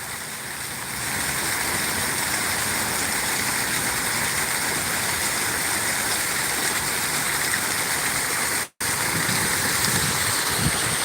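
Steady broadband rush of flowing water, like a stream or waterfall, fills the whole stretch at an even level, with one brief dropout near the end and no talking.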